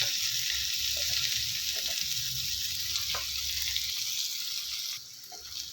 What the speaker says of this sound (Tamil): இப்போ நல்லா வெங்காயம் வதங்கி வரட்டும்